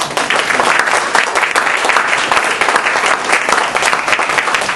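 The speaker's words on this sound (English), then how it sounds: "Can we give them all a round of applause?" A loud, sustained round of applause from an audience at a panel event with a San Francisco newspaper editor and supervisors, dense clapping from many people, close and steady throughout.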